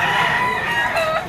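A bull stag rooster at a Malabon pet market gives a single loud, close crow, a strained harmonic call that bends and wavers over about a second with no speech.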